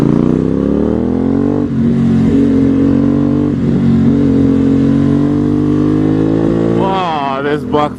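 An Aprilia Dorsoduro motorcycle engine, loud and close while riding, holds a steady drone that rises with gear changes, then revs sharply near the end.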